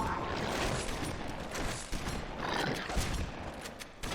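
A lever-action shotgun fires in Halo 2 amid a constant roar of battle noise, shots blending into a loud, dense clatter with a few sharper cracks standing out.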